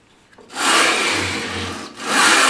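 A Bridge City Tools Joint Maker Pro, a precision joint maker, trims a small piece of wood in two close, loud rasping saw strokes, the first long and the second starting just before the end.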